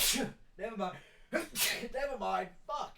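A person who is sick sneezes sharply and loudly indoors, with the sneezes mixed among bits of their own talking.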